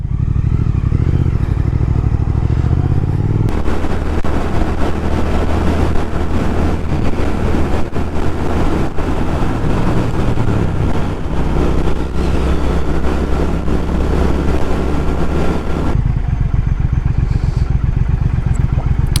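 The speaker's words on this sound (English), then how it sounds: "I was hardly twisting the throttle at all, and we were getting up to speed" A 2019 Triumph Speed Twin's engine rumbles at idle, then pulls away and accelerates up to speed with a loud, rising growl that runs under heavy wind buffeting before easing off near the end.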